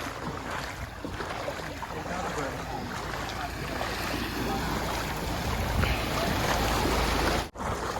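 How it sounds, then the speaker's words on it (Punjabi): A continuous broad rush of floodwater flowing over a road after a breached Beas River embankment, steady and loud throughout, with a brief dip near the end. "ਇਹ ਸੜਕ ਦੇ ਉੱਤੇ ਪਾਣੀ ਲੰਘ ਰਿਹਾ ਵਾ"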